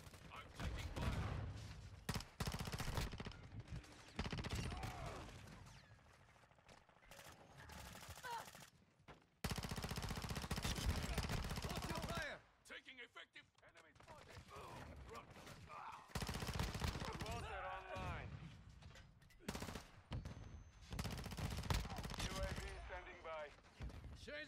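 Gunfire in Call of Duty: Modern Warfare II during a team deathmatch on Shipment, with a P90 in use: dense, loud bursts of automatic fire and rapid shot volleys, broken by short pauses, with voices talking throughout.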